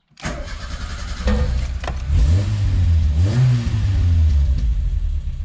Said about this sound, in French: Maintenant, il n'y a plus qu'à démarrer, voir si le compte-tour fonctionne lui aussi.